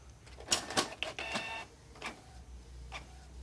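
Canon iP2770 inkjet printer, newly repaired after a paper-feed jam, pulling paper through while printing, with a few sharp mechanical clacks and whirs followed by quieter, intermittent feed noises close by.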